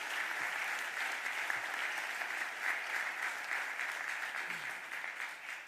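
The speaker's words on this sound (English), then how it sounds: "Please give Michael Newmis and Giselle Jones a round of applause." Audience at a city budget address breaking into sustained applause, a full, even wash of many hands clapping at steady volume throughout, easing off slightly at the very end.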